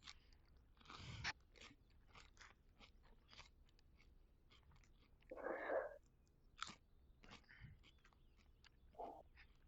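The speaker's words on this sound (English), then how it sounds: "Who's munching so damn loud?" Loud, close munching and crunching of food, with irregular bites and chews coming through a gaming headset microphone, some bursts sharper and heavier than others.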